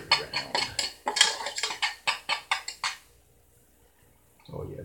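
A spoon stirs thick food in a pot on the stove, giving about a dozen quick, rhythmic scraping clinks over three seconds, then falling quiet.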